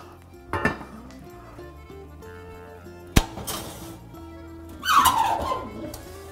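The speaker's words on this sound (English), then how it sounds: "put the lid on and pop it right back in the oven" A lid goes onto a bread pot and the pot is slid into an oven: a few metallic clanks, one sharp bang, then a scraping clatter, set against quiet kitchen background.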